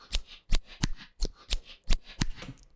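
Scissor foley snips standing in for hi-hats in a dark minimal drum and bass track, a run of about eight dry, crisp clicks at an even pace, close and fairly quiet, with no voice.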